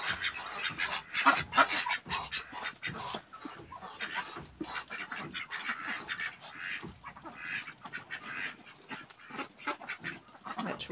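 A mixed flock of ducks, including runner ducks, runner crosses and Muscovy ducks, let out of their night pen in the morning; continuous busy quacking and honking from many birds nearby.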